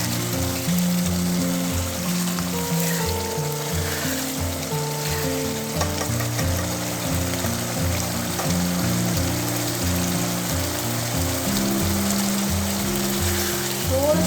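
Mixed vegetables sizzle and fry steadily in a pan over high flame, a continuous crackling hiss with moisture cooking off, close and fairly loud with no talking.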